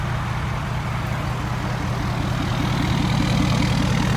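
A 2015 Ford F250 Platinum pickup with a 6.7 Power Stroke diesel and a brand-new 4-inch full exhaust idling close by, a loud, steady low rumble with a rapid even pulse and no voices.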